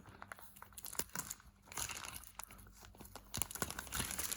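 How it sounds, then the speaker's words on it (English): Tape peels and crinkles off a plastic toy train package, with irregular crackling and tearing bursts up close and no talk. "it's fixed on here with tape, so I'm going to carefully pull this bit of tape off."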